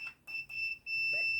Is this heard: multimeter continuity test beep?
yes